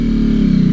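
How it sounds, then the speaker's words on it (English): A 2012 Ducati Hypermotard 796 with a Termignoni exhaust gives a brief, loud, close engine growl with a throbbing low rumble. "Apologies for all the revving with the clutch."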